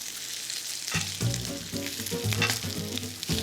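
Bacon fries crispy in a pan, with a loud, steady sizzle and crackle, a flip of the strips, and no voices.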